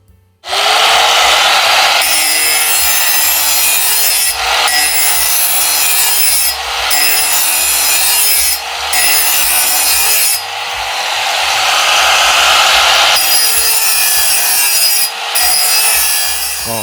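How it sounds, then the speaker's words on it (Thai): A loud angle grinder, running on solar panel power, grinds the edge of a mower blade in sustained bursts, its high whine broken by short pauses, close and harsh. "ทีนี้ผมก็ทดสอบกับหินเจีย หินเจียธรรมดานี่แหละ ก็ถือว่าแรงมากครับ"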